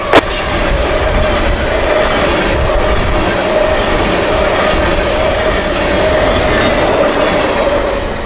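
A Union Pacific freight train rolls past close by at Owensboro, a loud continuous rumble with a steady high squeal of wheels running through the whole stretch.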